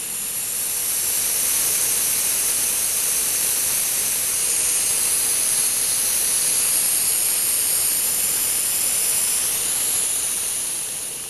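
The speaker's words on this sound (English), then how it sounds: "Okay, we're running on steam." Loud, steady steam hiss from a Hemmens Wharfedale model boiler engine during a test firing, a continuous broadband rush held at constant level throughout, with no voices.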